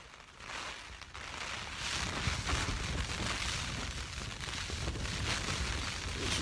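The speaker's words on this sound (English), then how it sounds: "Massive gust." Strong wind gusting across the Great Gable summit in the Lake District during a rainy wild camp, a broad roaring rush buffeting close by that swells and stays loud, with no voices heard.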